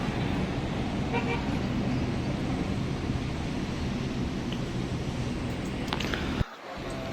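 A steady low rumble of a bus idling at a terminal: an Eva Star coach with a front-mounted Hino AK engine, set among road traffic and brief horn toots, with faint voices in the background and the noise cut off abruptly near the end.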